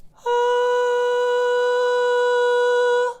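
One high sung note held steady for about three seconds, pure and light, almost flute-like, alone with no talking.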